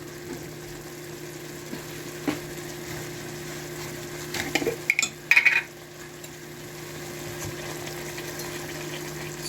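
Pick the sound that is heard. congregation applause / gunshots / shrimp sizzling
shrimp sizzling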